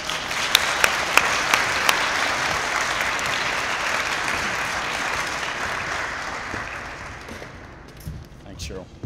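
An audience at a graduation ceremony gives sustained applause as a guest speaker comes to the stage, a dense, even roar of clapping that slowly thins toward the end, where a voice begins speaking.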